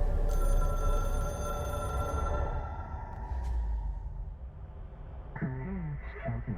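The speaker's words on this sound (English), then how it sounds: "Settle the fuck down. I'm getting to the phone." Classic telephone bell ringing in the video game Control, a loud repeated electric bell that fills the first three seconds, then fades to a low hum as someone talks over the end.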